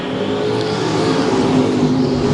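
Race cars roar back up to speed together at a dirt speedway as a late-model field restarts under the green flag, a dense, continuous engine drone that stays loud and steady throughout with no voices.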